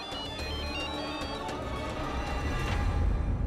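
A phone ringtone plays as a steady melodic ring of repeating tones at moderate level, alone with no talking over it.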